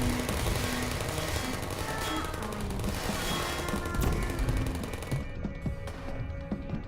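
Rapid automatic bursts from Portal's sentry turrets in the video game Portal, a loud, dense rattle of gunfire that thins out near the end into scattered clicks and shots.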